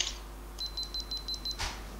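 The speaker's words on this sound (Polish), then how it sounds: "Spust migawki." Pressing the shutter release on a Canon SX110 IS compact digital camera gives a quick run of evenly spaced high electronic beeps, then a short, close mechanical shutter click, in a quiet room.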